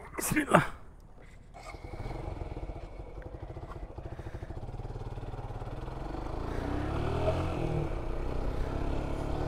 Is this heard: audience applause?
no